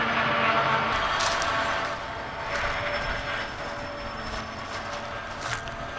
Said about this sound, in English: And it's a freight train.